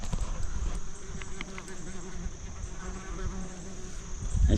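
Bees swarm and buzz around scraps of raw liver stuck to a pair of scissors at a riverside campsite, a steady close insect drone with scattered passing buzzes and low outdoor rumble.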